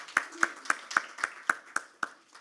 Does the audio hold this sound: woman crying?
no